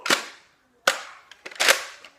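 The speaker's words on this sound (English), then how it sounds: "I'm gonna grab the gun and hold this back, put the clip in" A Nerf gun gives a series of sharp plastic clacks and snaps as it is primed and a clip is inserted, several close crisp mechanical sounds with short gaps between them.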